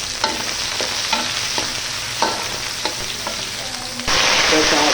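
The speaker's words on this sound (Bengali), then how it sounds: "তেল গরম হয়ে গেছে, এখন আমি পেঁয়াজটা দিয়ে দিব। পেঁয়াজটা ভালো কড়া করে ভেজে নেব।" Onions fry in hot oil for a tilapia curry, a close steady sizzle with periodic spatula scrapes against the pan, swelling louder near the end.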